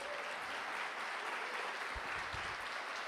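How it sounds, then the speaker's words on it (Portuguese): A church congregation applauding, steady dense clapping that fills the space evenly at a moderate, slightly distant level, with no voices over it. "Quantos podem dar um aplauso à presença de Deus?"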